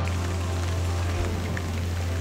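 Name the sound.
rain falling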